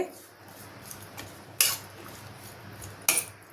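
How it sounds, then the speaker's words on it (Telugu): Sweet corn chaat being mixed with spices in a bowl, quiet soft stirring with two sharp spoon-on-bowl clinks. "ఇప్పుడు వీటిలన్నిటిని బాగా కలుపుకోవాలి"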